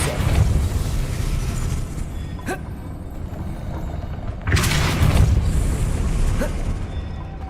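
Depulso force-push spell cast in the Hogwarts Legacy video game, heard as deep rumbling booms with two sharp impact bursts, the second heavier and followed by sustained low roaring, loud and close.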